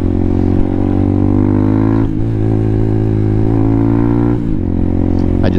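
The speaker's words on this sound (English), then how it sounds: "The bike's been running really good lately." RPS Hawk 250 motorcycle engine while riding, a loud continuous close hum with a steady throbbing rhythm and two brief dips where the revs change, no talking.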